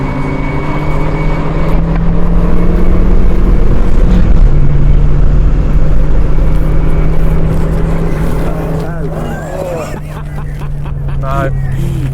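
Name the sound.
boosted classic car launching off the line at drag strip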